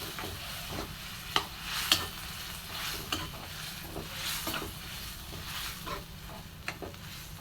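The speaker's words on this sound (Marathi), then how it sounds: "आता भाजी टाकली आहे आणि छान मिक्स करून घेऊया" Chopped dill greens sizzle softly in a pan as a spatula stirs and mixes them, with quiet scraping taps at irregular intervals over a faint, steady frying hiss.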